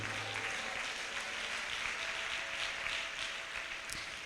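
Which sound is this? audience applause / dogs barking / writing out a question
audience applause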